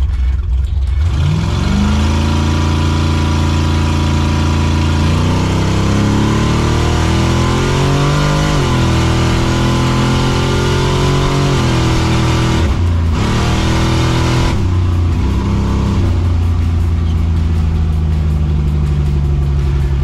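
A drag race car launches from the line at about 3,500 RPM, its engine loud and close as it climbs steadily through several gears with brief shift breaks, then holds a sustained roar.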